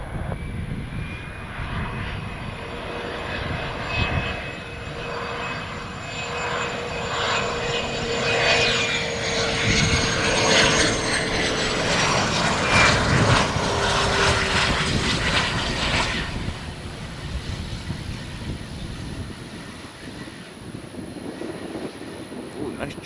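An Embraer Phenom business jet arriving from Miami lands at Tampa airport, its engines a loud, steady roar with a high whine that swells over the first half and then eases away toward the end.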